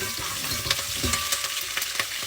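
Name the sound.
curry leaves sizzling in hot oil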